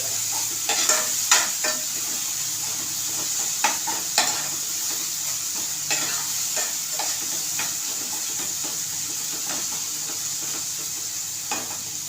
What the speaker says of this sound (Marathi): टॉमॅटो चांगलाच परतून घ्यायचं